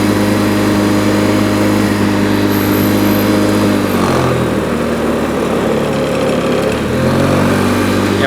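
A 1993 Honda 4514 hydrostatic lawn tractor engine runs loud and steady at a cold-start throttle setting, with a strong harmonic hum that sags briefly around the middle and then recovers.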